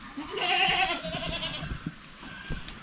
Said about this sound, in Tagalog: Yung mga kambing natin dito